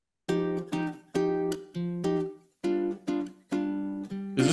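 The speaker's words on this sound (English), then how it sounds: "I basically did the same chords, just different voicings of it, because it's guitar." Guitar strumming chords in varied voicings, clean and close, with six or seven separate ringing strokes, each decaying before the next, spaced in a loose rhythm with short silences between.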